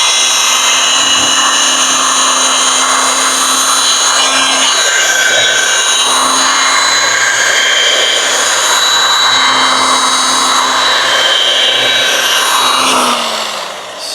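Machine polisher running steadily on rough, orange-peeled car clearcoat, a loud, close, continuous motor whir with a high whine that holds for about thirteen seconds before winding down at the end, no talking.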